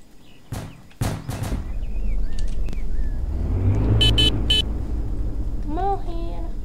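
A truck engine in Roblox Jailbreak revs up and holds a steady loud rumble after a couple of sharp thumps, with short horn-like toots and synthetic game tones over it.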